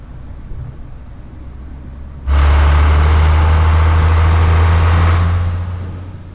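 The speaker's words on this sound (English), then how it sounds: "This is the slowest tractor we have." A slow farm tractor's engine rumbles at a low idle, then suddenly rises loud and close for a few seconds before easing back down.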